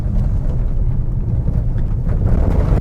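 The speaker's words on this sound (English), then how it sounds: "you can hear the washboard surface here" A 2022 Subaru Ascent on street tires rolling over a washboard dirt road, a loud continuous low rumble and rattling road noise with buffeting, no voices.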